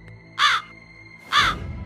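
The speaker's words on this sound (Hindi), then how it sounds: "एक जख्मी कौवा उसके झरोखे पर आकर बैठ जाता है और काँव काँव करने लगता है" A crow caws twice from a window ledge, two loud, harsh, nasal calls about a second apart, each standing out clearly over a low steady background hum.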